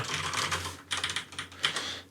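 Computer keyboard keys are pressed while a webpage is being edited, a quick run of close, crisp taps that stops briefly and then resumes as a few separate clicks.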